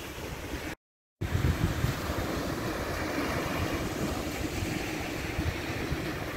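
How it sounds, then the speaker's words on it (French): Steady, blustery wind rushes across the microphone at the seaside, with a low roar of surf beneath and no talking. "Il fait un peu frisqué, il y a un peu de vent"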